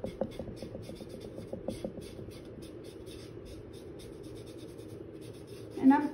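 Paint dabbed onto a stencil with quick, soft, rhythmic taps and rubbing strokes, close and quiet, slowing toward the end.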